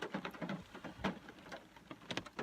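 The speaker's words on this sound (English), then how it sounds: "you don't make it in your car in the pouring rain" Pouring rain patters unevenly on a car, close and moderately loud, with scattered drops landing in quick irregular bursts and no talking.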